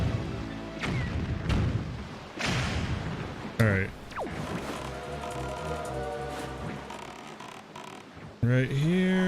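Cannons fire in The Wind Waker HD at sea: several heavy booms and thuds amid game music and ocean effects, with someone briefly speaking over them.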